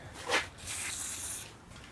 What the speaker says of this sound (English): Just going to spray some CRC